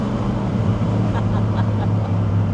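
A 1980s muscle car engine accelerating at half throttle, a loud, steady low rumble with no break and no talking.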